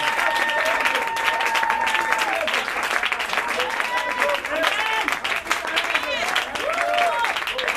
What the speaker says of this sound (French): Acclame très fort le roi de gloire, Yeshua Hamashiach.